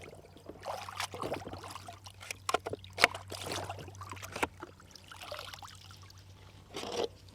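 A dirty handgun being rinsed off with water, giving close splashing and trickling pours with a few sharp knocks, steady and alone with no talk.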